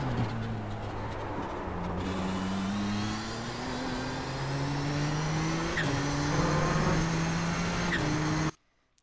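A race car engine in the iRacing game screams through corners at Circuit Gilles Villeneuve, its pitch climbing steadily through the gears with brief shift dips and a hint of tire squeal, loud and close.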